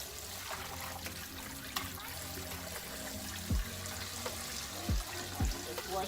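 Pineapple being rinsed in water with a capful of vinegar, a steady running-water trickle and splashing under the handling, with a few brief sliding knocks.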